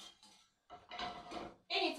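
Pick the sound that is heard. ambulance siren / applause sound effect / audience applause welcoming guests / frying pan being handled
frying pan being handled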